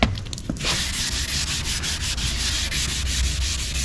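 Steady, continuous rasping of sandpaper rubbed by hand over a car's hard painted surface, close and fairly loud, with no talking.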